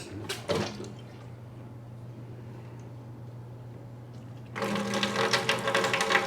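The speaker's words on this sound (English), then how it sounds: "that fountain pump is activated by a foot pump." A foot-operated fountain pump runs in a plumbing-free pottery studio sink. A faint motor hum sits under clicks and splashing, followed by a louder burst of running, rattling water near the end.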